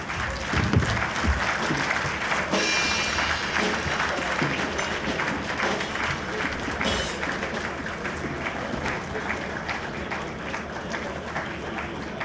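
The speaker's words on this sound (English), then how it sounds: "Another resounding applause." A large audience gives a long, dense, steady round of applause after a speech about Nigeria, sustained and loud throughout with faint crowd murmur mixed in.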